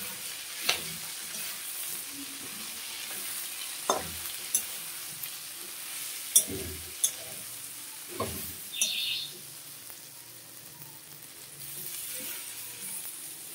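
Pumpkin leaves frying in a pan, likely with shrimp and jackfruit seeds, under a soft steady sizzle broken by scattered scrapes and clacks of a spatula stirring, close by and fairly quiet.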